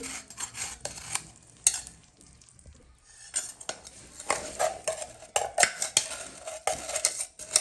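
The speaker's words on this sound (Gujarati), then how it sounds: "હવે આપણે તેમાં ગુંદર એડ કરી દઈશું આ રીતે છૂટો કરીને ગુંદર એડ કરવાનો છે" Edible gum (gundar) tipped into a pan and stirred for gundar paak: close scraping and clinking of a spoon against the pan in uneven bursts, with a brief quiet pause partway through.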